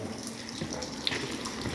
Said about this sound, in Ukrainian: Бачите, йде вода з радіатора вже з стосовом пішла